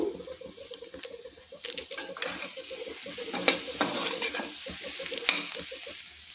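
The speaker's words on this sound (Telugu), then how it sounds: "దీంట్లో కొంచెం సాల్ట్ తక్కువ అయిందండి, వేసుకుని కలుపుకుంటున్నాను." Egg and garlic masala being stirred in a pan with salt added, giving close, steady scraping and stirring strokes over a soft continuous sizzle, with no talking.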